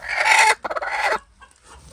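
A hen clucks loudly and close by in two agitated bursts of rapid calls, then a quieter pause and a brief final squawk.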